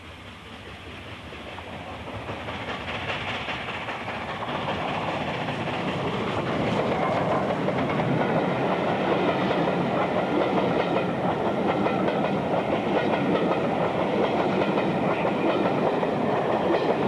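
A steam locomotive hauls a positioning special train from Gloucester to Crewe on the Wolverhampton line south of Stafford, a rising rumble and rhythmic clatter of wheels and carriages building as it nears and stays loud, with no voices.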